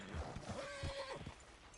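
A horse in the video game Red Dead Redemption 2 gives a single clear, quavering whinny lasting about a second, with faint hoof clops around it and no talk.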